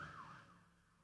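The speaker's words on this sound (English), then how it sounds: "can you hear that ambulance?" A faint, distant ambulance siren wails briefly, one falling tone fading into low background noise.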